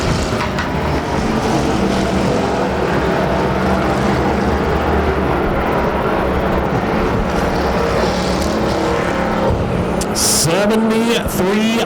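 Bomber-class race cars roar around the oval at Arizona Speedway during a 120-lap enduro, a dense, continuous engine drone with cars passing, under constant race commentary.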